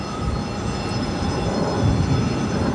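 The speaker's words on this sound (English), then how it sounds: "we got that U.S. Airways Retro A321 up next for takeoff" A US Airways retro-livery Airbus A321 taking off at Phoenix airport, a loud, continuous broadband jet roar and rumble that swells slightly toward the end, heard alone without speech.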